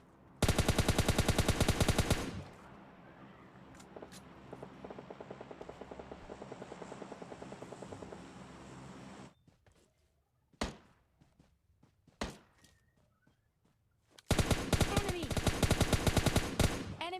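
Gunfire in a solo-versus-duo battle royale shooter game, heard as loud dense bursts of automatic fire at the start and end, with a steady engine-like drone and a few sharp isolated shots in between; no talk.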